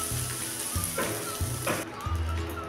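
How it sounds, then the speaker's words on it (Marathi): Water splashed onto a hot griddle sizzles loudly, a sustained hiss with bursts of crackle as it boils off, close and alone without speech. "बघा आता असा आपला तवा गरम झालेला आहे। त्याच्यावर थोडंसं पाणी टाकून घेते।"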